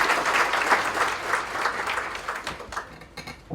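Audience applause at a university accreditation ceremony, a steady wash of many hands clapping that thins out toward the end.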